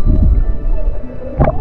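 A person imitates a humpback whale call while snorkelling at sea in northern Tasmania, with low moaning, throbbing tones near the start and a rising, brighter cry near the end, loud and close.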